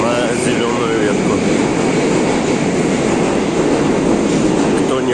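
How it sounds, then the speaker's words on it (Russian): A metro train rumbles loudly and steadily through Chekhovskaya station in Moscow, a continuous roar of rolling wheels and squealing rails filling the platform. "нахожусь на станции метро Чеховская"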